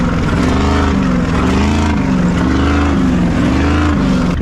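A motorcycle engine revs hard and loud during a wheelie, rising and falling pitch in repeated surges over a constant close roar.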